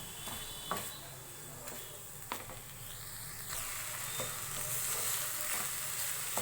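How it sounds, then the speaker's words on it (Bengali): A coconut and jaggery filling is stirred in a pan, producing a faint, soft sizzle with a few distinct scrapes and taps of the spoon against the pan. No one speaks. "যতক্ষণ না গুড়টা নারকেলের সঙ্গে পুরোপুরি মিশে যাচ্ছে ততক্ষণ এটা নাড়তে থাকবো।"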